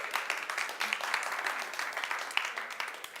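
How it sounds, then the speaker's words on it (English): Lively applause from a live show audience welcoming a volunteer named Brenda, many hands clapping in a busy, fairly steady patter with a few sharper claps standing out, moderately loud and without talk. "Give Brenda a round of applause"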